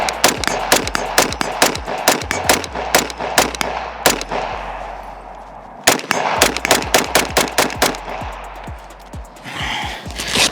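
A SIG MCX rifle fitted with a compensator fires a long string of rapid, loud shots outdoors. There is a brief pause in the middle before the volley resumes.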